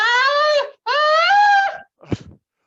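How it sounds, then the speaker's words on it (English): Two long, loud, shrill screams burst from a chained man, each wavering and strained, followed by a brief ragged gasp or groan. "A succession of loud and shrill screams bursting suddenly from the throat of the chained form"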